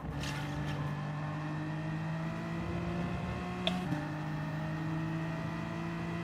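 In Gran Turismo 7, a race car engine holds high, steady revs in a continuous drone, fairly quiet, with a brief bump in pitch near the end.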